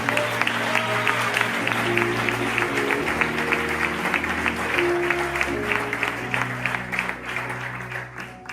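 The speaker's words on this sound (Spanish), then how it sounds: "Dale un fuerte aplauso a Dios." A congregation applauding in church, broad sustained clapping from many people over a low musical drone, loud and even before thinning slightly toward the end.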